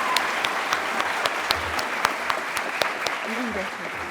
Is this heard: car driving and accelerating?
no